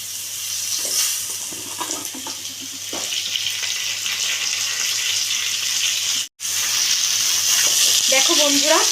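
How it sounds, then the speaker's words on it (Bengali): Pointed gourd and potato pieces fry in hot oil for a Bengali dish, giving a steady close sizzle with occasional stirring scrapes and a brief pause midway. "পটলগুলো আমি এবার আলুর মতো লাল লাল করে একটু ভাজা করে নেব"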